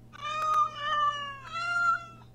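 Several cartoon cats meow repeatedly in the Teeny Titans video game, three bright drawn-out mewing calls in close succession, loud and clear with no talking over them.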